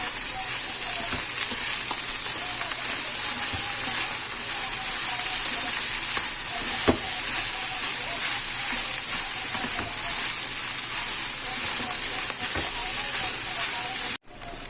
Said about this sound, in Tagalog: ayan, halo, haluin na natin.